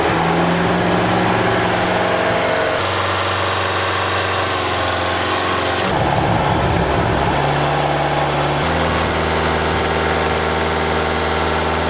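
The diesel engine of a Mitsubishi L200 pickup with a manual injection pump conversion runs loudly and continuously, with a deep rumbling idle and shifts in pitch as revs change, no voices.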